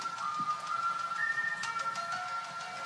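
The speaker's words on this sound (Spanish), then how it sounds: "Lo siento, el teléfono." A phone rings indoors with a steady electronic tone repeating across about three seconds, faint and alone with no talk over it.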